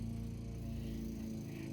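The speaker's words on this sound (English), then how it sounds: "We've got some noise nearby from a lawnmower" A lawnmower runs nearby outdoors, a steady low droning engine hum that holds constant throughout with no voices over it.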